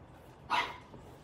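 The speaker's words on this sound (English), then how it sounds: "Our new little puppy." A young puppy gives a single short, sharp bark or yip, close and fairly loud, with quiet room noise before and after.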